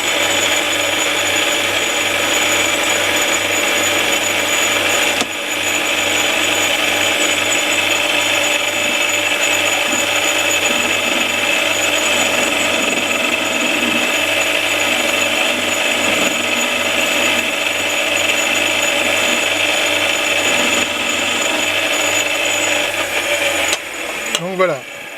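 A metal lathe turning a steel workpiece during basic machining, a steady, loud machine whine and hum running almost the whole time, with a brief dip near the start and the motor winding down at the very end; no talk.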